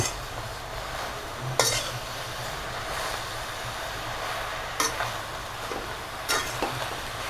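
Greens and dried fish curry being stirred in a pan, a low steady sizzle broken by a few sharp metallic clinks of the spoon against the pan's rim.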